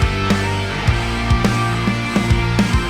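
A beat instrumental plays loud and dense, with sustained layered tones under steady, punchy drum hits recurring in a regular rhythm throughout.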